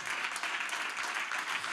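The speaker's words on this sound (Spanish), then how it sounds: "¿Cuánto le dan palmas de alabanza al Señor?" Church congregation clapping in praise during a sermon, a brief continuous patter of many hands at moderate distance.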